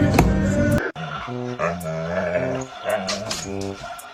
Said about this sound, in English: you growling at me?